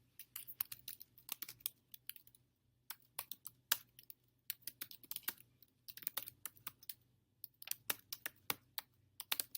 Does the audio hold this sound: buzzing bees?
no